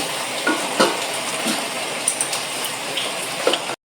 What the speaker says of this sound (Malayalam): ഇനി ഇതൊന്ന് ലോ ഫ്ലെയിമിലിട്ട് ഒന്ന് കുക്ക് ചെയ്തെടുക്കണേ.